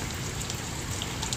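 Steady rain falls on a 4000-gallon outdoor salt water pond, a dense, even hiss of drops without pauses, fairly quiet and with no voices.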